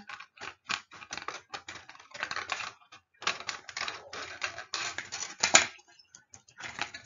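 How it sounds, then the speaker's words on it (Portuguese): Scissors snipping through a drinking cup to shorten it, a run of close, crisp cutting and crackling bursts with brief pauses between, no talk over them. "Eu vou só cortar o meu copo para ele ficar"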